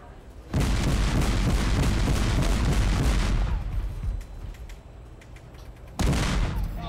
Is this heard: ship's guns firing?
yes